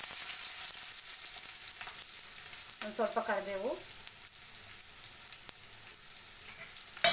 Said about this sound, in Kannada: ಒಗ್ಗರಣೆಗೆ ಹೆಚ್ಚಿಟ್ಕೊಂಡಿದ್ನೆಲ್ಲ ಈರುಳ್ಳಿ ಅದನ್ನು ಹಾಕ್ತಾಯಿದ್ದೀನಿ